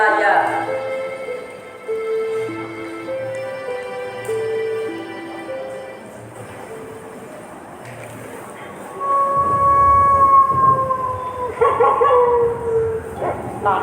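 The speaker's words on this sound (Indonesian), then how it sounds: "saya geram dengan suara lolongan anjing seperti ini." Dogs howl in long, wavering, rising and falling tones during a stage play performed in a university theatre, loud and sustained. A second, stronger surge of overlapping howls comes near the end.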